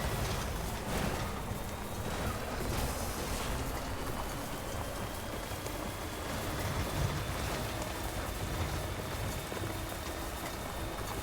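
Steady rain in the video game Death Stranding patters across a surface in a continuous wash of noise, moderately loud, with no voices over it.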